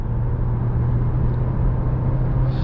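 A 2024 Range Rover Evoque Dynamic SE accelerates on a highway, heard from inside the cabin as a steady, loud low engine drone and road rumble with no talking.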